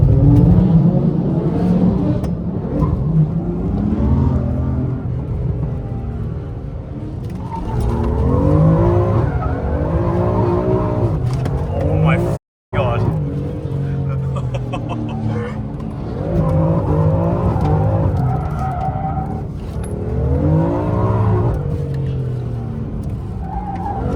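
A street drift car slides on a public road, tires skidding and squealing while the engine revs hard in rising and falling sweeps, loud and close and nearly continuous apart from one brief dropout.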